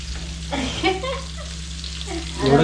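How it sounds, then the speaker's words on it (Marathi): Surmai kingfish frying in a pan in a home kitchen, a soft, steady sizzle beneath someone talking, with a constant low electrical hum. "आणि इकडे सुरमई फ्राय होते बघा एकदम व्यवस्थित."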